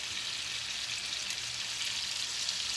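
Chicken browns and sears in a pan while cooking fried rice, giving a soft, steady, even sizzle with fine crackle, fairly quiet and close, with no voices.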